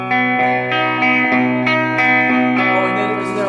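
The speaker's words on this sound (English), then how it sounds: "this Joyo high gain distortion, the what is it, JF-04" An electric guitar played through a Joyo JF-04 high gain distortion pedal at a guitar clinic, with loud, saturated chords struck in a steady sequence, each ringing with thick distorted sustain.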